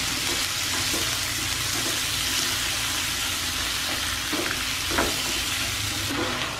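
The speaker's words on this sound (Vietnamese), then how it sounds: "Mình đảo mình xào." Meat is stir-fried in red annatto oil with seasoning powder and pepper in a pan. A loud, continuous sizzle fills the scene, broken by scraping stirs and light clinks of the utensil. No voices are heard.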